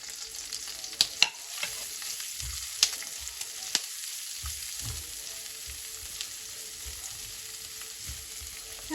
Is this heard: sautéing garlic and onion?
yes